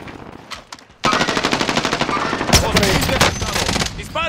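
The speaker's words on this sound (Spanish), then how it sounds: "Disparos." Rapid automatic gunfire from a Call of Duty–style battle royale video game on an island map, loud sustained bursts after a brief quiet start, with a few louder single shots cutting through the chatter of fire.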